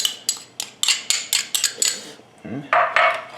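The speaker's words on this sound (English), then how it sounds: "We're going to stir this together." A spoon scrapes and knocks rhythmically against a container while brown sugar and Dijon mustard are stirred together for an Instant Pot meatloaf glaze. The strokes are close, quick and fairly loud, and a brief voice may come in near the end.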